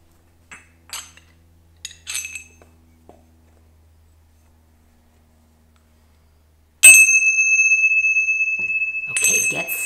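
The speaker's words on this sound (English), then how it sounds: "Do you want to do the bells, Maisie?" Small metal bells jingle in a bright, ringing burst near the end, after a few faint clinks and soft talk earlier.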